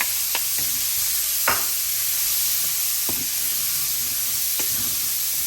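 Red peppers sautéing in olive oil for Cajun fettuccine with sausage and shrimp give a steady close sizzle, broken by several sharp scrapes and clacks as the spatula stirs them around the pan.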